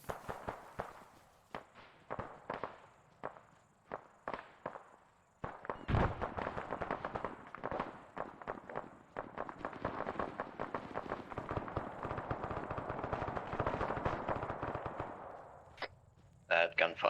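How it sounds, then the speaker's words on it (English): Distant gunfire in the military shooter game Arma 3 crackles in bursts: scattered sharp shots early on, then a long, dense stretch of rapid automatic fire, with faint radio voices in the mix and a few closer pops at the end. "That gunfire you hear is most likely 1-4 and Bravo."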